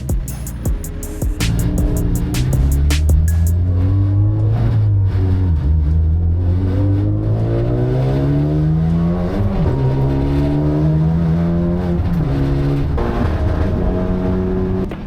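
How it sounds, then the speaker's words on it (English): Time attack race cars lap Donington Park, loud engines rising and falling through gear changes as they pass close by, with rapid revving sweeps and no talk. "so let's get the cars out for their first shakedown."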